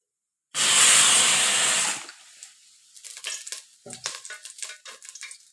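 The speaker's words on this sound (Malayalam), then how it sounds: "നമുക്ക് എണ്ണ ഒഴിച്ചു കൊടുക്കാം." Oil hits a hot clay pot for a raw banana curry and bursts into a loud, bright sizzle lasting over a second, then fades to scattered light crackles and pops.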